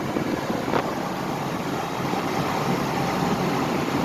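A 1-ton truck tows a loaded trailer at highway speed, heard from inside as a constant, loud, broadband rumble of road and wind noise that never lets up.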